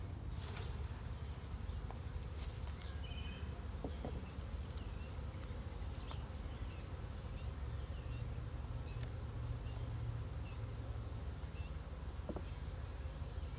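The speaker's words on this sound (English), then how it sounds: "Sure is a lot of bees in here." A steady, dense hum of many honeybees buzzing close together in a newly swarmed hive, a constant droning swarm without pause.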